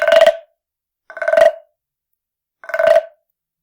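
Three ratcheting croaks from a wooden frog guiro scraped with a stick, evenly spaced about 1.3 seconds apart, each a short buzzy rasp that imitates a bullfrog. The sound is close and clear, with silence between strokes.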